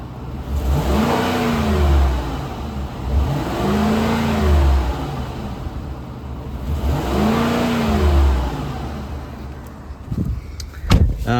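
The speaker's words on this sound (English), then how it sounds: "we're gonna do a quick rev test" A Ford Expedition EL XLT 4WD engine is revved while stationary. Three rising-and-falling revs swell and settle back to idle in a steady rhythm, close and fairly loud, followed by a few clunks at the end.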